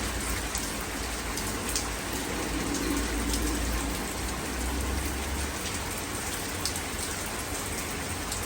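Heavy rain pours down at night in London, a dense continuous hiss and patter on surfaces with no break, close and steady throughout.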